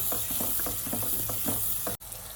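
Tomatoes cook in a pan with red chili powder, turmeric and sugar for Gujarati dal: a close, steady sizzle broken by rhythmic stirring scrapes, with no talk, ending abruptly.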